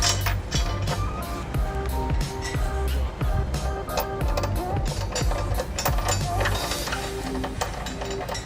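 Repeated mechanical clicks of a ratchet snugging a bolt through a trailer hitch into a weld nut on a 2012 Honda Odyssey, close and steady across the clip over a busy, tonal background.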